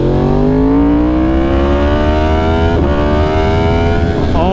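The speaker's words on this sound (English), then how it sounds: "That sounds exactly like a MotoGP bike." A Yamaha R1 motorcycle fitted with an SC Project CR-T exhaust revs hard and close, its loud tone rising steadily in pitch with a brief dip near the end, no one speaking.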